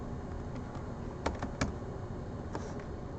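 Typing on a computer keyboard that feels soft and mushy, a steady muffled patter of keystrokes with a few louder clacks, close and fairly quiet, with no talking.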